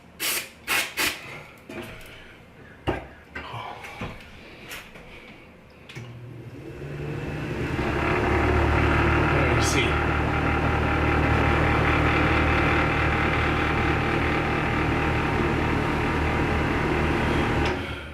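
A few sharp clicks and knocks come first, then a worn-bushing bath vent fan motor starts and runs with a loud, steady whirring hum and rattle that continues to the end.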